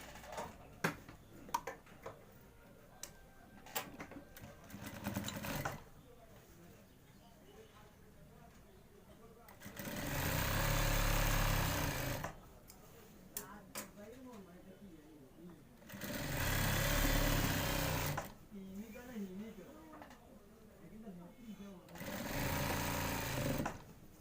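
A sewing machine stitches the side seam of a shirt in three loud, steady whirring bursts of several seconds each, separated by quieter stretches where a person talks and handles fabric.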